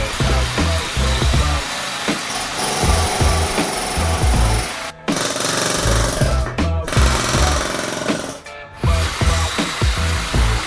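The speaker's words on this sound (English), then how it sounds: "I think we're going to try to air hammer this other bushing out" Loud, rapid pneumatic air hammer pounds away in bursts driving out a bushing, pausing briefly a few times before resuming, with metallic clatter throughout.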